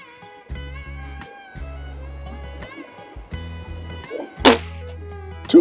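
A Walther LGU air rifle fires a single shot during a bench test, a brief sharp pop standing out over a steady mechanical hum and a few soft knocks.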